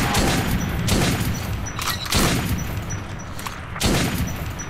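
Heavy automatic gunfire pours at a monster in Metro 2033, loud, continuous bursts with booming swells, close and alone without talk.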